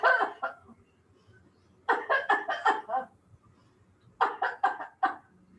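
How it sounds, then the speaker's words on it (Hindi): Several people cough in short bursts during a yoga breathing exercise in an online COVID yoga workshop, with three clusters of rapid, close coughs separated by quiet pauses. "एक दो बार खांस लो।"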